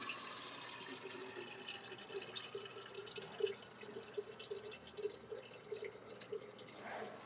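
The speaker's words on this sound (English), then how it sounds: "just take the stopper off and it drains into the yellow watering can" Water drains from a garden sink into a plastic watering can, trickling and dripping steadily, a soft continuous gurgle with small splashes, close but fairly quiet.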